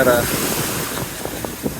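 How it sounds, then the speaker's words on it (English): Waves wash up on a windy beach at Playa del Carmen in a steady broadband rush, with wind buffeting the microphone and a few soft splashes near the end. "gotta dodge the waves to get by."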